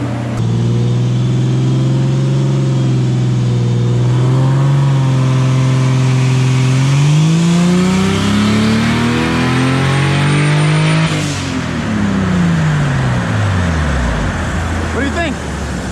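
A loud turbocharged 3.0L BMW M52 engine in an E30 revs up and holds high, then drops and winds down, its pitch sweeping as the revs fall.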